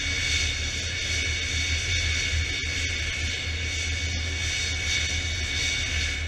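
Engine of a NASA ER-2 high-altitude spy plane, a steady loud jet roar holding throughout with only slight fluctuations, no voices.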